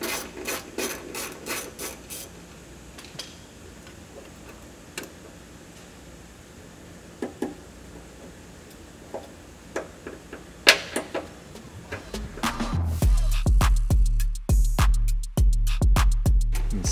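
A ratchet backs out 12mm bolts from the frame of a 2023+ third-generation Toyota Sequoia. Quick runs of rapid clicking open the stretch, then a few faint taps follow, and it ends with louder, denser ratcheting.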